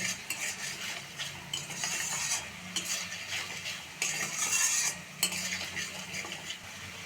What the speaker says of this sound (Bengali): দিয়ে দিব হলুদ, এখন ভালো করে কষিয়ে নেব।